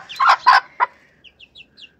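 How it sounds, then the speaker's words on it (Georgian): A broody hen with tiny chicks gives three or four close, throaty clucks, followed by a short run of faint high peeps. "ჩემი კრუხი"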